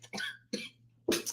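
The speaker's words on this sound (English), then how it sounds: "I got like this little cough" A woman coughs three times in quick, close, dry bursts indoors, with short gaps between them and a faint low hum underneath.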